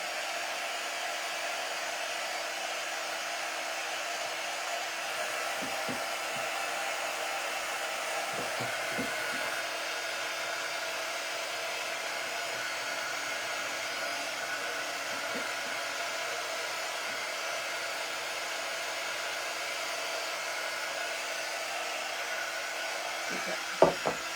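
Hair dryer blowing steadily on a patriotic craft bow, a continuous even whooshing drone at close range that runs throughout, with a few faint knocks.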